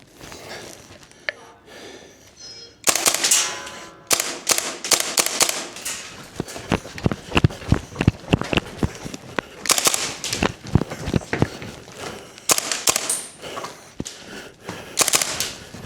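WellPro AK12 gas blowback airsoft rifle firing on a timed gauntlet course, a run of loud, close sharp cracks in quick bursts and single shots following a quiet opening.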